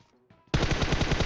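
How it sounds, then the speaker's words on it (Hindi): A sudden loud burst of rapid automatic gunfire in PUBG Mobile, close and continuous after a brief quiet lead-in. "अब देखो अगर आप मैप में देखोगे तो पीछे से गोली की आवाज आ रही थी"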